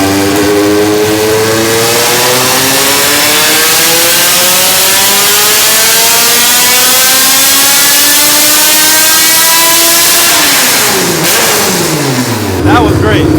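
A 350 hp naturally aspirated Honda Civic with individual throttle bodies and a hood exit revs hard on a dyno, its engine note climbing steadily and loud to a peak before dropping off near the end.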